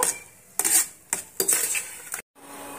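Metal utensils clink and scrape against a plate and pan in a few sharp, separate bursts as a freshly fried egg is lifted out and set onto the plate, followed by a brief silence.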